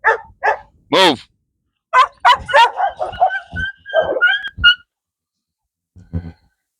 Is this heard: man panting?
no